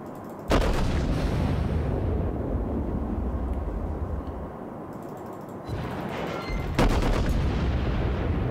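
Battleship main guns firing salvos in World of Warships aboard the New Mexico, heavy booming blasts with a sharp onset followed by long rumbling decay, repeated a few times over a low engine-like rumble.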